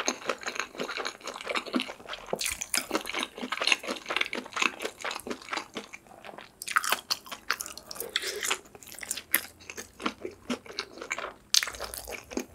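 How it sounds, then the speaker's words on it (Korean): Crunchy bites and close, wet chewing of spicy fried chicken, a dense run of crackling crunches in bursts with brief pauses, loud and intimate with no talking. "맵슐랭치킨부터 먹어볼게요"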